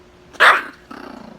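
Dog growling over its food at close range, a sharp loud bark-like snarl followed by a lower rattling growl.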